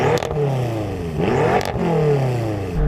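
A car engine revving hard with rising and falling pitch sweeps, strong and close, with clattering mechanical noise and no talk over it.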